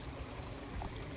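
Flowing water of Whitewater Creek along the Oregon Pacific Crest Trail: a brief, faint, steady rushing wash, continuous and without voices.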